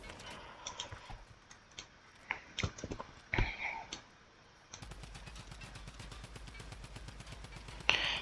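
Sharp clicks and bursts of rapid-fire gunfire sound from Fortnite, then a steady, buzzing automatic stream of shots fills the last few seconds.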